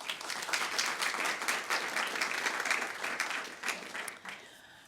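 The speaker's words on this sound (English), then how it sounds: "Please give our guests a warm round of applause." An audience at a pandemic research event gives the guests a warm round of applause, many hands clapping quickly and evenly before the sound thins out near the end.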